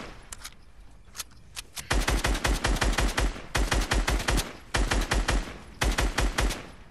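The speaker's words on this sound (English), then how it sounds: "Start shooting the tree down." Rapid automatic gunfire in Fortnite aimed at a tree, loud and close, starting with a few scattered shots and then breaking into long, dense bursts separated by short pauses.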